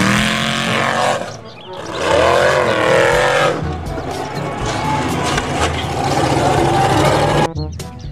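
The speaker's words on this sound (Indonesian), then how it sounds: "Wah, ini mobil off-road." An off-road car drives loudly, its engine rising and falling in pitch with revving surges and rough road noise, close and continuous.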